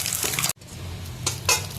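Fish frying in mustard oil in a home kitchen, a steady close sizzle with a brief break and a louder spitting burst near the end.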